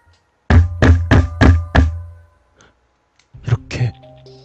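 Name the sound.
knocking on a door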